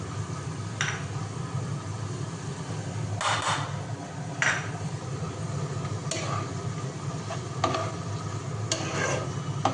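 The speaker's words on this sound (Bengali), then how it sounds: "এবার দিয়ে দেবো হচ্ছে কাজু কিশমিশটা" Cashews and raisins fry in a pan for fried rice, a low sizzle broken by several sharp scrapes and taps of a spatula stirring against the pan.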